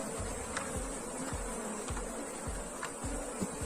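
A honeybee swarm buzzes steadily at an open hive, a dense continuous drone with individual bees zipping past close by, and no voices over it.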